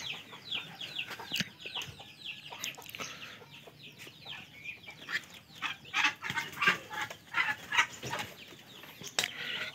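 Jumbo Muscovy ducklings in their pen give off a dense chorus of high, overlapping peeps and chirps, close and continuous, with scattered sharp knocks and brief rustling or flapping throughout.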